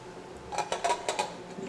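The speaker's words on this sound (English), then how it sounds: "Adjust my pan." A pan shifted on a stovetop while oil heats for searing jerk salmon, giving a few light metallic clinks and scrapes in quick succession, close and moderately quiet with no talking.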